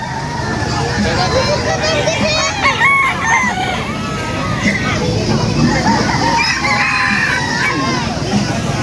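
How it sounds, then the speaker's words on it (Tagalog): Many chickens cluck and roosters crow loudly and close together at an outdoor pet and poultry market in Angeles, a crowded chorus of fowl with people chattering in the background. "Ito mga manok oh."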